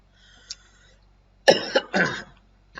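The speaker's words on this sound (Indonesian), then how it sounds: "maaf ada sedikit batuk ya" A single faint cough, then a louder burst of two or three close-up coughs, with quiet room tone around them.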